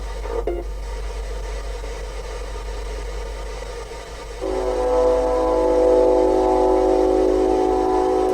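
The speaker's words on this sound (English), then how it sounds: "Trains." A train rumbles past in a steady low drone, then a loud sustained horn sounds midway and holds to the end, with no speech.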